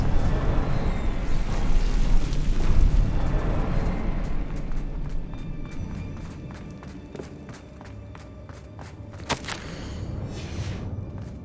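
A Confringo fire spell erupting in the Hogwarts Legacy video game, a loud rumbling blast that fades into softer footsteps and a sharp crack later, amid game audio.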